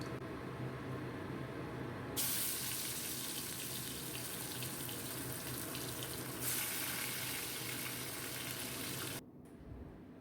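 Katla fish belly pieces frying in hot oil in a wok, a steady broad hiss of sizzling that grows louder partway through and drops off abruptly near the end.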